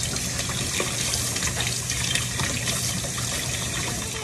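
Water runs steadily from a tap into a container for a Barbie doll, a continuous close hiss and gush with a low hum underneath and no talking.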